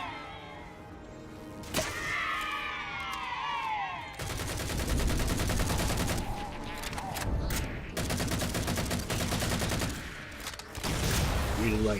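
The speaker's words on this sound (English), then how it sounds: "Really like using the assault rifle in this game." Halo 4 assault rifle fire in a video game, crackling in dense sustained bursts with brief pauses, loud and close, over a background of battle noise.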